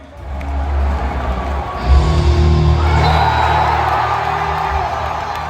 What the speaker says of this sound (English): the crowd was extremely vocal